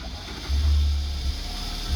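A Holden VL Commodore engine roars at full throttle during a burnout, a loud, steady low rumble that surges partway through and holds with little variation.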